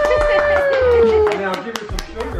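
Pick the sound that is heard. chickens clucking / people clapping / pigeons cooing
people clapping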